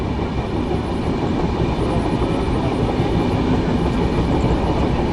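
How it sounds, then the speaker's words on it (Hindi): Golden Temple Mail passenger train running at speed between Rajpura and onward stations, a loud, steady rumble of wheels and carriages filling the whole stretch without a break. "अच्छी गति के साथ आगे बढ़ रही है हमारी ट्रेन।"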